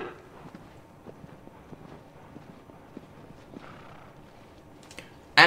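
Horse galloping in the video game Shadow of the Colossus, a steady run of soft hoofbeats under game ambience, fairly faint, with a sharp louder burst at the very end.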